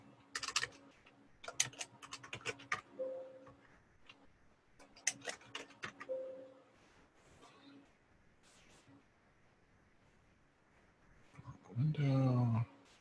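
Bursts of computer keyboard typing during a webinar Q&A, with quick clustered keystroke clicks around the first and fifth seconds and sparse ticks between, all fairly faint and intermittent, then a short louder sound near the end.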